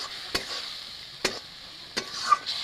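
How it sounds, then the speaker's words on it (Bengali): Spice paste with cumin and mixed masala fries in a pan under a soft steady sizzle, broken by three evenly spaced scrapes of a spatula. "মশলাটাকেও ভাজে নেব।"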